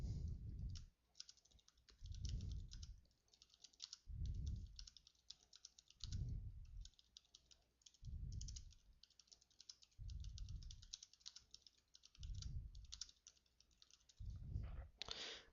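Rapid typing on a computer keyboard, close and steady, with dense key clicks in short bursts separated by regular thumps of a heavier key or tap every couple of seconds.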